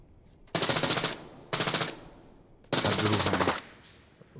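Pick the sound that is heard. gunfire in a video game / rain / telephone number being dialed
gunfire in a video game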